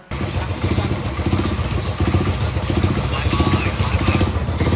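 Several motorcycles sit ready at the start of a night ride to Ladakh, their engines idling with a steady low, throbbing rumble and a pulsing beat, loud and close throughout.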